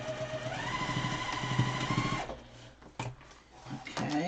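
A sewing machine stitches fabric masks in a steady, fast whirring run for about two seconds, then stops, followed by quieter handling clicks.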